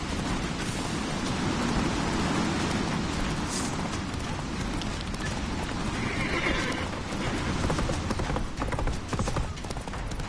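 Geralt's horse Roach in the video game Witcher 3 gallops with a constant dense hoof rumble under rain-like noise, giving a couple of whinnies partway through.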